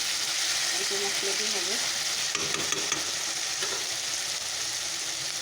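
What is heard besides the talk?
vegetables frying in a pan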